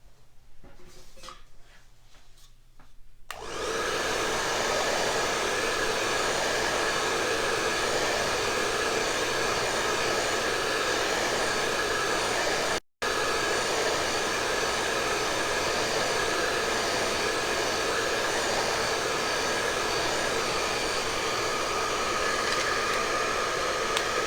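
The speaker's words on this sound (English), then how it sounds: "There's so many switches on my blow dryer that sometimes it gets you confused which one you gotta click" A handheld blow dryer switches on after a few quiet seconds and runs with a loud, continuous airy roar and whine. There is one brief dropout midway.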